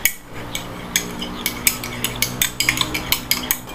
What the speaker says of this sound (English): and I just stir it